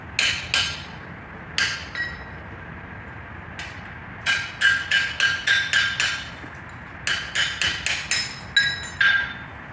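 Blacksmith's hammer striking hot steel at a guild forging demonstration while cutting off the end of a weld, ringing metallic blows in short clustered runs, loud and close, with no voices.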